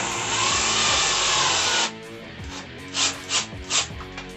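A power drill drives a small screw through a metal bracket into a hole in a Mainstays open shelf nightstand, with a long, steady whirring run, then a few short bursts as the screw seats.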